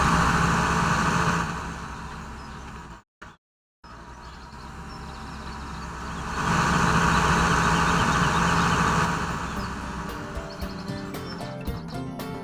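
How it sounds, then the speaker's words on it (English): A Farming Simulator 17 tractor engine rumbles steadily, cutting out briefly, then swelling louder before easing back, with clicks near the end. "when moving towards or away from a vehicle, the engine sound does tend to increase or decrease sharply"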